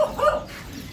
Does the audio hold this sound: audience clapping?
no